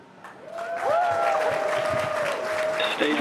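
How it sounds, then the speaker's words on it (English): Employees at SpaceX headquarters in Hawthorne cheer and applaud after a Falcon 9 first-stage landing, a sustained crowd roar rising after the first second and holding steady, with a tonal broadcast sound running over it. "And if you can hear that cheering, everyone here at Hawthorne is very excited."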